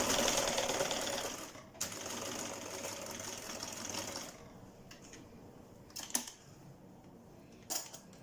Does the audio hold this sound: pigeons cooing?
no